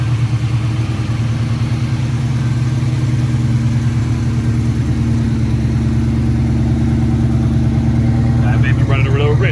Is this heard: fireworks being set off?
no